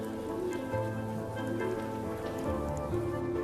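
Rain falls steadily in Venice during a spell of extreme high tides and Scirocco winds, a continuous close patter on the stone surfaces with no voices.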